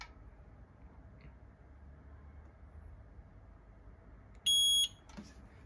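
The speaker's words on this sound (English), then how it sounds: "just keep it pressed for 10 seconds and you will hear a beep." A short, loud electronic beep from a Rubik RBX23-25 fingerprint safe box resetting sounds once near the end against quiet background hiss.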